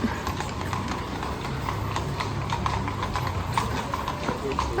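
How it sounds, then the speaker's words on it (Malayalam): Horse hooves of a tourist carriage clip-clop in a steady rhythm on the streets of Vienna, Austria, amid ambient city noise and a person talking. "ഇവിടെ ഇടയ്ക്കിടയ്ക്ക് ഇങ്ങനെ കുതിരകൾ കൊണ്ടല്ലേ ടൂറിസ്റ്റുകളെ കൊണ്ട് പോണതാ"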